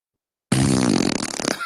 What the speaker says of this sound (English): I will still hit that fart button at least 3 times a stream